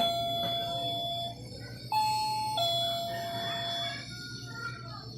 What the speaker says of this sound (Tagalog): As you can see or hear, the censored alarm makes sound.